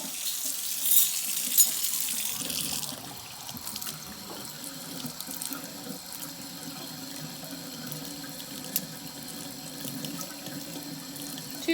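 Water runs steadily from a kitchen tap for chocolate chip cookie baking, a loud hissing stream at first that drops to a softer, continuous flow with small clinks and handling noises.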